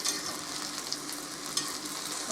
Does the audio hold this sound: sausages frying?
yes